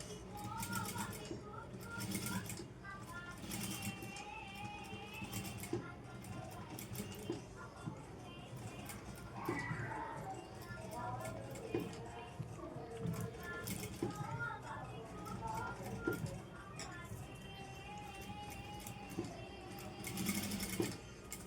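A sewing machine runs slowly while stitching a cross-cut blouse neckline, producing rhythmic bursts of rapid needle clatter under a person talking quietly.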